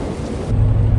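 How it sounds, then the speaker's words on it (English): Rain beginning to fall in the Euro Truck Simulator 2 driving game, a steady broadband hiss of rainfall with low rumbling thunder-like weight that swells louder partway through, continuous and without talk. "and now it starts to rain as well"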